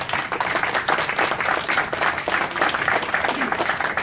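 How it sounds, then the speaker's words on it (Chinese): Guests at a committee inauguration ceremony give warm, continuous applause, a dense crowd of many hands clapping close by with a faint murmur of voices beneath. "朋友们，给予他们热烈的掌声。"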